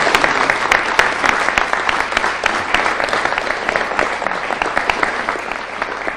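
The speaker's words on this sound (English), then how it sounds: "Please give him a round of applause." Audience applause at a Boston public safety event, steady dense clapping from a room full of people for a state representative, loud and continuous with no talking throughout.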